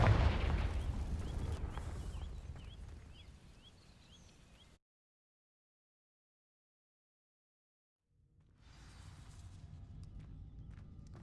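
Confringo fire spell in the video game Hogwarts Legacy, striking dry vines: a loud blast that roars and fades over several seconds, with faint whistling bursts, then silence before low rumbling ambience returns.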